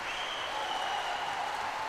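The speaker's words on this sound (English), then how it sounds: "Absolutely huge noise from the crowd." Crowd applauding and cheering at a gymnastics horizontal bar event at the 2023 Mersin World Challenge Cup, a dense, steady wash of clapping and crowd noise with no breaks, loud and enveloping.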